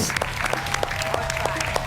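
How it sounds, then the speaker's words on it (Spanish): Studio audience applause on the Argentine TV talk show Intratables, a steady patter of clapping held fairly low in the mix with faint voices and tones underneath. "Aplausos para Intratables, señores."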